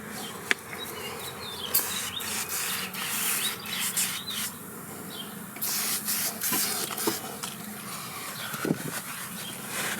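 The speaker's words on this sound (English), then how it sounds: "I am going to wipe the excess off" Excess product is wiped off plastic trim on a Geo Pro 19FBS travel trailer, giving a steady close-up rubbing hiss with small scuffs that runs for the whole stretch, and no one talks.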